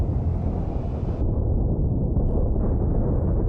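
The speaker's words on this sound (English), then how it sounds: "there's a lot of explosions going on" Dense, roaring rumble of spaceship battle explosions in the game The Last Starship rolls on without a break, loud and booming with no voices.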